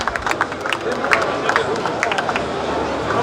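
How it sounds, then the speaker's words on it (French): Audience at a rum awards ceremony in an agricultural competition hall applauding, a dense wash of clapping mixed with crowd murmur and chatter, steady and moderately loud throughout. "On applaudit bien fort."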